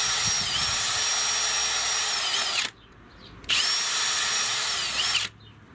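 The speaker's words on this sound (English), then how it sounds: "I'm just drilling the rubber out of the holes." Power drill boring old rubber out of holes during power steering and intake work on a 1979 Buick Park Avenue with a 403 Olds engine; two loud, steady whining bursts of about two seconds each, split by a short pause, with no talk.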